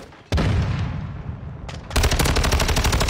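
Video game gunfire sounds as a loud automatic burst of close shots with a short lull, then a denser rapid burst near the end, with no voices.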